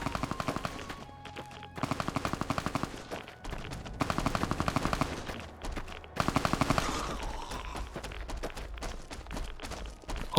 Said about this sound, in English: Who's shooting at what?